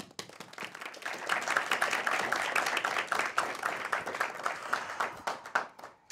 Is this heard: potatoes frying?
no